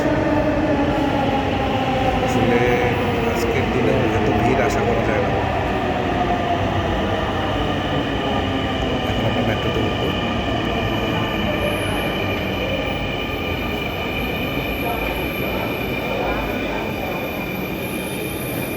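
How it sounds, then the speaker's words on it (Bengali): A Dhaka metro rail train arrives at a station with a loud, close, continuous rumble and drawn-out squealing wheel tones that slowly shift pitch, while a few words are spoken briefly over it. "মেট্রো রেলটি চলে এসেছে"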